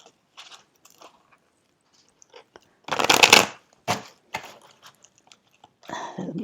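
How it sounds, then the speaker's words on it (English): A slippery, gold-foiled tarot deck is shuffled in a few distinct bursts, with one loud, dense riffle in the middle and shorter flicks and taps around it against a quiet background. "a couple of shuffles of these"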